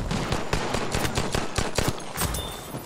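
Rapid, loud automatic gunfire from the video game Battlefield V, with dense overlapping shots and bursts firing almost without pause for the whole stretch.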